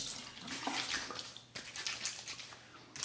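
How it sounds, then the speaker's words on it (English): Water splashes steadily as a razor is rinsed between shaving passes, a close, continuous running stream with a brief pause midway before resuming. "A quick rinse."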